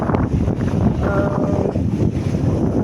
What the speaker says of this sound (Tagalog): Medyo rough ang dagat ngayon, guys. Mahangin.